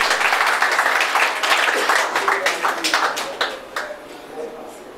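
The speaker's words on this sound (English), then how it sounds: "Please give him a round of applause." Audience applause at the Arise Lagos inauguration ceremony in Lagos, a dense, loud burst of many hands clapping that gradually thins and fades over several seconds.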